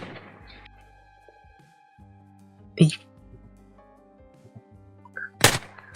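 Sniper rifle shots in a Minecraft match: two sharp, isolated cracks a few seconds apart, the second louder, set against quiet game ambience and a faint tonal hum.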